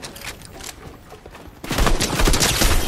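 Gunfire in Fortnite, a rattle of shots that swells into a dense, loud barrage after a quieter start.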